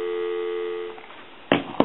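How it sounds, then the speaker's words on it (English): A Crosley wood wall speakerphone gives a steady telephone tone for about a second, which then fades, followed by two short clicks or knocks. "Give you some dial tone."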